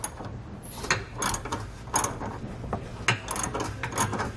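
A 19mm socket wrench tightens bolts on a Curt trailer hitch receiver mounted to a 2015 Jeep Compass, producing repeated quick ratcheting clicks in short irregular strokes, close by, with no one talking.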